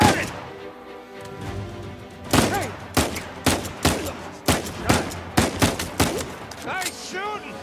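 Gunfire in Uncharted 4 gameplay: a run of loud, evenly spaced shots cracking out one after another, mixed with game music and brief character voices.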